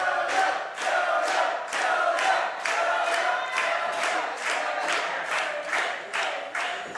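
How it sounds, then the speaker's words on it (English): Crowd at a sporting event cheering and applauding for the game official, a steady roar with rhythmic swells of clapping and shouts that stays loud and continuous throughout, no clear speech over it. "Crowd here appreciating the official."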